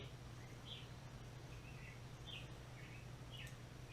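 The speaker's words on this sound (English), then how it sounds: "the birds are singing" Faint birds chirp in short, repeated calls over a low steady hum, sounding somewhat distant in a quiet outdoor setting.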